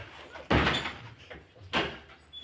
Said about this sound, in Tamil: கதவை போட்டுறாங்க